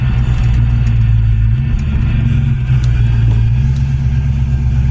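A 1982 Ford LTD engine rumbles loud and close, its deep drone dipping and swelling slightly as it revs through a downshift.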